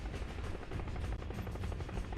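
A rescue helicopter, such as a Huey, Chinook or Black Hawk, roars steadily overhead with a dense, continuous rotor and engine drone that fills the whole clip loudly and alone.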